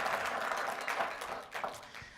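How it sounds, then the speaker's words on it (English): Audience at a city's State of the City address cheering and clapping, a dense, steady wash of applause throughout the short stretch with a few louder bursts, no talk over it. "This is the moment that you are encouraged to cheer and clap when I say we continue to have no debt in Warrenville."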